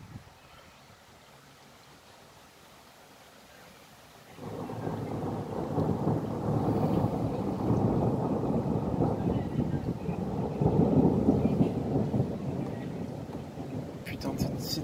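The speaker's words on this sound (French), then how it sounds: "Il est vraiment arrivé comme ça cet orage" A moderate thunderstorm with hail over Le Mans: quiet at first, then heavy rain and thunder swell in and hold a loud, steady roar with rumbling peaks, a few brief sharp clicks near the end.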